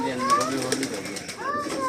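Domestic pigeons at a pigeon keeper's home give soft, repeated rolling coos at close range, with faint voices in the background.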